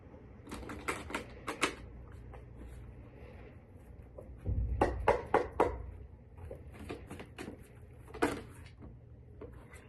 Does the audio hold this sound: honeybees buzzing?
no